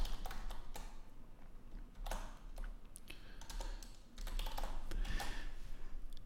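Typing on a computer keyboard while entering code, a steady close run of rapid key clicks with brief pauses, quiet and alone without talk.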